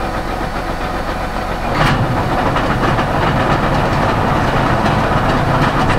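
A tractor's PTO runs a harvest auger with a loud, continuous mechanical drone and rattle. The sound is heard close up, and it steps up slightly in intensity early on and then holds steady.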